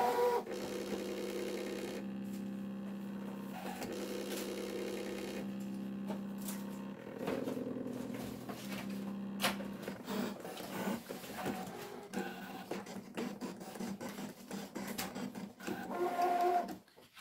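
An electronic cutting machine cuts out Super Mario letters, its motor whirring and buzzing steadily with shifting tones as the blade carriage moves, plus clicks and short mechanical jolts toward the end.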